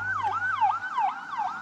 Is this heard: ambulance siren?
yes